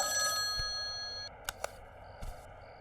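A telephone bell rings in a home in a Hindi drama series, a sustained metallic trill that cuts off abruptly, followed by a few faint clicks and handling sounds.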